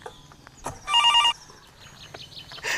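A telephone rings once with a short electronic trill over quiet room noise, while faint background sounds come and go around it.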